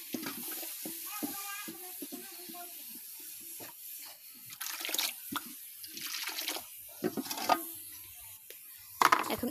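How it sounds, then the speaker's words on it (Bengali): Water is poured into a jackfruit-seed lentil dal cooking on a clay stove, heard as soft splashing and trickling with scattered drips and clinks, fairly quiet and close. "এখন এর ভেতরে পরিমাণ মতো পানি দিয়ে দিব"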